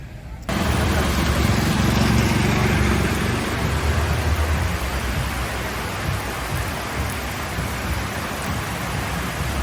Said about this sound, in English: It's raining quite heavy again, although it is still really hot.